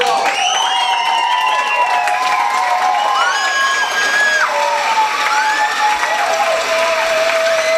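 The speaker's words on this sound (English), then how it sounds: "Let's give our contestants a round of applause." An audience at a kids' game show claps and cheers for the contestants, a dense sustained burst of applause with whoops and children's shouts throughout.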